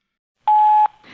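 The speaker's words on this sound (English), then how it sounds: "Please leave a message about anything you want to talk about after the beep." A single steady electronic tone from an answering machine on a call-in hotline, lasting about half a second after a recorded prompt, loud and clean, followed by faint background noise.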